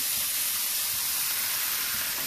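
Boiled dal poured into a hot pan, giving a steady broadband sizzle and hiss that holds evenly from start to end with no voices.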